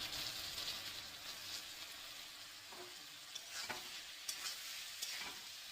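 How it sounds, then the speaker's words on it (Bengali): Mola carplet, small freshwater fish, frying in oil and being stirred in a pan, a steady soft sizzle broken by a few sharp scraping clicks of the spatula, close and moderately quiet with no talking. "দেখো মোরলা মাছ ভাজা"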